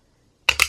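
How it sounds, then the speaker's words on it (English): A corner chomper punching rounded corners into a thick, hard journal cover: two sharp, close snapping crunches in quick succession after silence. "Corner chomper chomps corners of really hard stuff like this"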